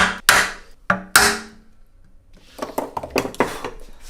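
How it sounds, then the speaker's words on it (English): A hammer strikes a chisel cutting into acoustic guitar wood in a garage workshop, three sharp close knocks followed by a run of quicker, lighter taps and scraping. "I'm just gonna chisel out the other side."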